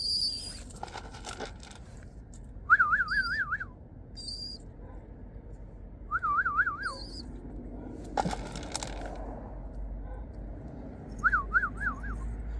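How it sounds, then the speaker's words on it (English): A person whistles short warbling trills to call pigeons at feeding time, three separate bursts spaced a few seconds apart, with faint bird chirps and soft rustling between them. "I just keep whistling also, as I told you guys, for him to know that when I feed him, when it's a whistle, it's feeding time"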